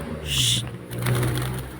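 Pigeons give a short, soft, low cooing nearby, with a faint rustle in the background.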